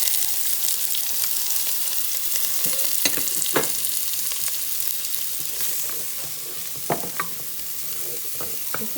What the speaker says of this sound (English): This is the onions that I'm putting in.